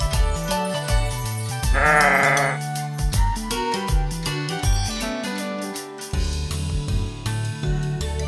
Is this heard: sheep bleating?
yes